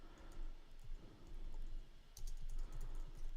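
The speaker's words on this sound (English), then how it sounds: "we can just double click and type" Fast typing on a computer keyboard, a steady run of soft close key clicks with a few brighter taps near the end, no voices.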